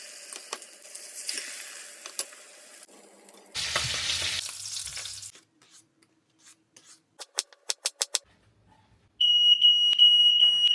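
A smoking frying pan crackles and sizzles up close, followed by a few sharp clicks and then the shrill, steady tone of a smoke alarm starting near the end.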